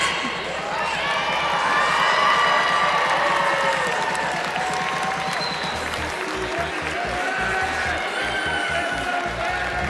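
An audience at a FIRST robotics festival cheers and applauds in a big venue. Claps, whoops and shouts blend into a steady, loud crowd roar that lasts throughout, with a voice speaking over it.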